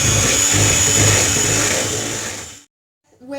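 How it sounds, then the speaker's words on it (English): An electric hand mixer whisks eggs and sugar in a bowl into a fluffy mousse for loaded chocolate brownies. It makes a steady, loud, close motorized whir with beater rattle for over two seconds, then cuts off abruptly. "Whisk your eggs and sugar into like a nice fluffy mousse."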